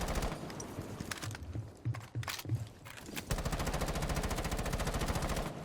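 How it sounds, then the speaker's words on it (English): AK rifle fired in Rainbow Six Siege on console, a steady rapid automatic burst that runs loud and continuous through the second half after scattered shots and brief pauses earlier. "I'll show you the AK."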